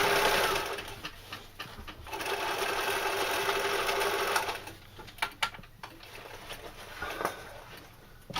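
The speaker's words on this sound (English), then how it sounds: "Some people wouldn't see the need to do this extra bit of stitching there." A sewing machine puts extra stitching on a knife carrier, with a sustained run of fast, even mechanical chatter that slows into scattered clicks and short bursts toward the end, close and clear.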